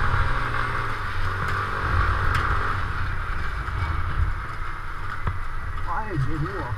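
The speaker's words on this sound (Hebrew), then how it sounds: "וואי, איזה רוח." Heavy wind roars across the microphone while riding a Kymco 125 scooter on the road in rain, a constant loud rushing blast with engine rumble beneath and a brief voice near the end.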